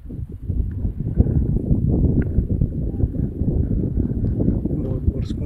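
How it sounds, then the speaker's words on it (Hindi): Cold wind blows hard at night in the open desert around the Tree of Life in Bahrain, a constant dense low rumble buffeting the microphone with little letup, loud and close. "ये बड़ी हवा चल रही है वो भी ठंडी हवा"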